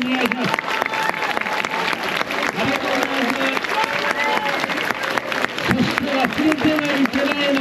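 Audience applause at a nighttime Take-n-Gei bamboo performance at Wakamiya Inari Shrine in Nagasaki, a steady dense clapping from a crowd that carries through the whole stretch, with voices and some musical tones mixed in underneath.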